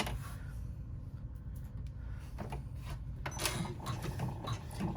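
An embroidery machine stitches a registration line during bag making, giving a steady loud mechanical drone with rapid needle chatter and a few sharper clicks, close by with no talking.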